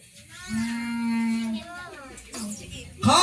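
A long moo, seemingly a person or child imitating a cow, rises and holds for about a second, followed by a shorter second call. Speech and party noise surround it at a christening and first birthday celebration.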